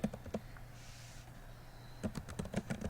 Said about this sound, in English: I'm going to pause while I type this